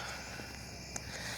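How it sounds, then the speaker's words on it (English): Crickets chirp faintly at around 4:30 to 5 in the early morning outdoors, a steady high insect trill over quiet background noise with one brief sharper click. "Those are crickets."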